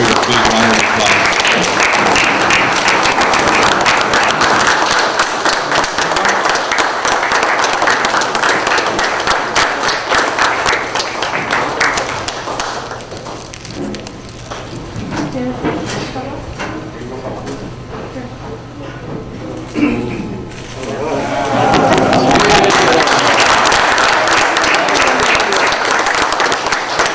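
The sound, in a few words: audience applause at city commission meeting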